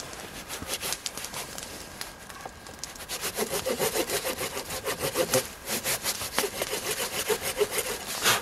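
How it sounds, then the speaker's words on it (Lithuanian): A small hand saw cuts into wood being prepared for a torch, its steady back-and-forth strokes rasping close by, growing louder and more rhythmic after a few seconds. "Tai pjūkliuku yra paprasčiau įpjauti"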